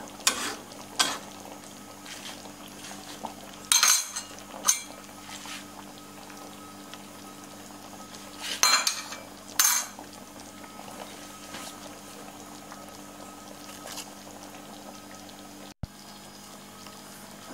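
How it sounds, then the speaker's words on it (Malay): Tuna curry simmering in a pot, giving a steady low bubbling boil with soft patter, punctuated by a few louder bursts of clatter or handling noise. "Biarkan ikan tongkol masak kari kita ni empuk dan mendidih beberapa ketika dah masak."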